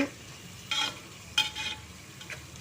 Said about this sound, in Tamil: வெங்காயம் பாருங்கள் நல்லா வதங்குது